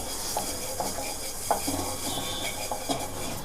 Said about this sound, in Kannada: ಕೊತ್ತಂಬರಿ ಬೀಜ ಎಲ್ಲ ಫ್ರೈ ಆಗ್ತಾಯಿದೆ ಚೆನ್ನಾಗಿ ಮಿಕ್ಸ್ ಆಗಿ